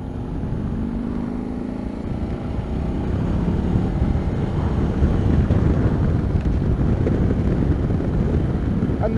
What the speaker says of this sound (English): the fairing doesn't do a lot of good as far as lowering the wind noise